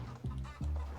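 Chickens in the video game Cryptmaster cluck in short, close, repeated bursts, about three quick low calls within a second.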